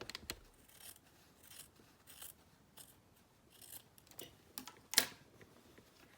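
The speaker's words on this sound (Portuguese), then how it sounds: "Vou cortar deixando uma margem de costura." Scissors snipping fabric for a placemat to leave a seam allowance: quiet, scattered single cuts at irregular intervals, one crisper snip standing out, close up with no talking.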